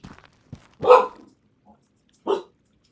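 An excited dog barks near the microphone, giving a few short, separated barks with quiet gaps between them.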